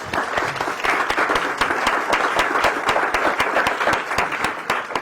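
Steady applause from an audience at an academic panel session on materials synthesis, dense overlapping claps with sharper individual hand strikes, sustained and even in level throughout.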